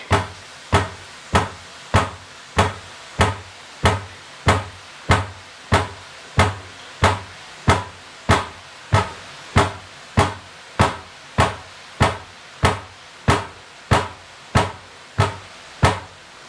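A ladle is tapped steadily to drop thin boondi batter for motichoor laddu, giving about twenty-five sharp, evenly spaced knocks, each a little under a second apart, close and clear with no talk.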